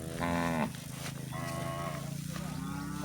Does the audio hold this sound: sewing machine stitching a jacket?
no